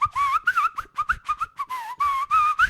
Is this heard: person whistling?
yes